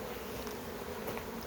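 Honeybees buzz around a bee escape board on a hive, a dense, steady drone filling the air close by with no pauses.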